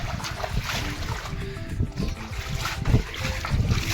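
Rainwater after heavy rain flowing through a pipe from a waterlogged area, a continuous rough trickling and gushing rush that stays steady throughout, with faint outdoor noise.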